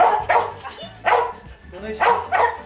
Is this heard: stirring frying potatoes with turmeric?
no